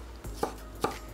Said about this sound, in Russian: И огурчики тоже нарезаю тоненько соломкой.